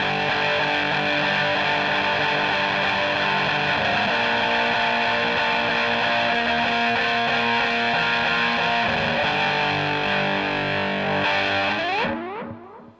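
Electric guitar through heavy fuzz with a Plethora X3 adding delay and reverb, a thick, saturated sustained passage playing loudly and continuously before cutting off with a decaying tail.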